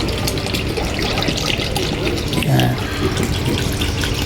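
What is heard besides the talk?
pouring one litre of vinegar into the pan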